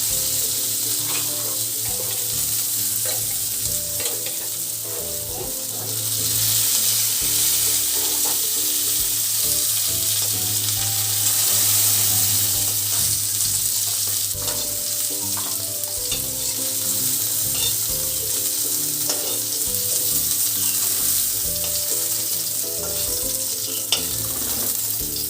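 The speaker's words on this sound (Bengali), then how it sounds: "বেশি ভাজবো না, সবজি যেহেতু ঝোলের তো ওই জন্য বেশি ভাজবো না, অল্প অল্পই ভেজে নিচ্ছি" Vegetables fry in hot oil in a home kitchen for a fish curry. A steady close sizzle carries on throughout, broken by occasional stirring and scraping, and there is no talk.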